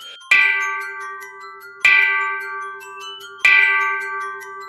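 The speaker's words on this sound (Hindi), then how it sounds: "बाहर से घंटी बजने की आवाज आई।" A bell rings outside at night in an eerie horror setting: three clear, resonant strikes about a second and a half apart, each tone ringing on and slowly fading before the next, with no other sound around them.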